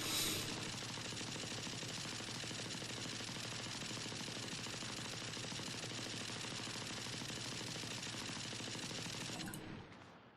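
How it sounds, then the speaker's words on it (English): The Ares, a fully automatic gun in Valorant, fires one long unbroken burst of rapid shots, dense and even, before it stops abruptly near the end. "That's the Ares. Left click, fully automatic."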